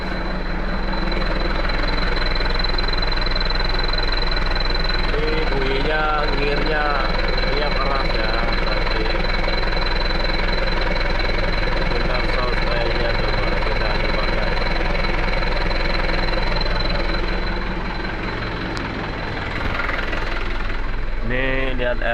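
Truck engine with an HKS aftermarket exhaust idles steadily and loudly close by, a constant low throb throughout while people talk over it.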